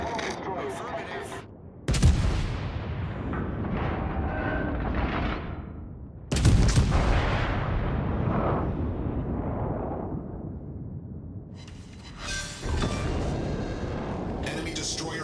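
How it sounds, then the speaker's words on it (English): Naval gunfire and exploding enemy destroyer in the World of Warships: Legends video game, three loud blasts with long rumbling decays, each one followed by steady sustained noise. "Enemy destroyer blown up."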